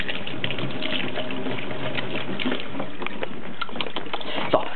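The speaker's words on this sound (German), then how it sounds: "wieder Hände waschen gehen." A kitchen faucet gushes as hands are washed between cake-baking steps, a steady close hiss of running water lasting the whole stretch with small splashes and knocks, no talking over it.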